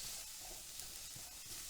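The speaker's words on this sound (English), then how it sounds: "And we're just going to saute these until they get a bit softer." Chopped onions sauté in a little oil in a pan for gluten-free chicken lo mein, giving a steady, close broadband sizzle with small crackles throughout and no voices.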